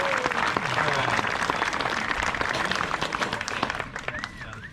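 Audience at a Kauai luau imu demonstration breaks into loud, sustained clapping that fades out over a few seconds.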